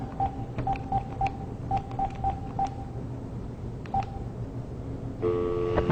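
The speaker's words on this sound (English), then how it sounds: "Call the cell phone." Touch-tone keypad beeps from a cell phone being dialed near an EMF meter, a quick run of short evenly spaced tones followed by a pause, two more beeps, then a steady ringback tone at the end.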